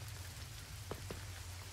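Steady rain in the farming game Coral Island, a soft continuous patter with a couple of sharper drip taps, heard alone at low level.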